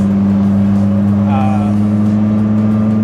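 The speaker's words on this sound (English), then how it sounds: "this car is so loud" A Dodge Viper fitted with a triple disc clutch kit roars loudly and steadily at close range, its engine holding a deep, sustained rumble with a brief rising rev in the middle.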